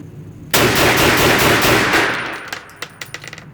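A Walther pistol firing Inceptor +P ammunition at close range: a loud, dense burst of report lasting a couple of seconds, then a few sharper, quieter cracks and clicks trailing off.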